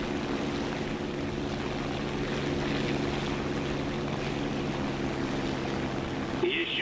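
Propeller airplane flying in a video game, a steady droning engine hum with a constant low tone throughout, moderately faint and continuous.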